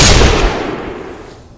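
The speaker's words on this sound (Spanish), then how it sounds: "Un disparo directo a la cabeza" A single loud gunshot sound effect in a zombie story, a sharp close blast with a booming low rumble that decays over about a second, and no voices.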